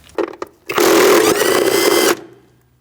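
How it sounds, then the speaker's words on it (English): A power tool with a 10mm socket spins out bolts on a 2000–2006 Mini Cooper during brake master cylinder replacement: two short blips, then a loud whirring run of about 1.5 seconds that cuts off abruptly. "Now we're going to remove 3 bolts with a 10mm socket."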